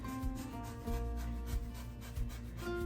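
A washed lemon rubbed against a zester or grater, giving steady close scraping and rasping strokes with no talking.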